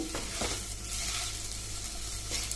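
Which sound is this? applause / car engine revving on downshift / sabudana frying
sabudana frying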